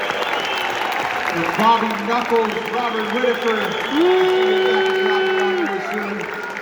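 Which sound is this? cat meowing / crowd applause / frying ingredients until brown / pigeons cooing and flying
crowd applause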